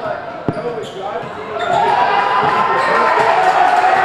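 A crowd cheering in a gym at a high school basketball game between Carlson and Edsel Ford, the roar swelling loud and sustained after a sharp ball bounce.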